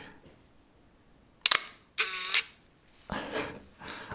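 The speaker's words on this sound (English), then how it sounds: "I believe the Leica M8 II was designed with a more quiet shutter, but the Leica M8 is noisy." A Leica M8 rangefinder camera fires its shutter: a sharp, close metallic snap followed by a brief whirring motor recock, then a softer mechanical rattle, loud and alone in a quiet room.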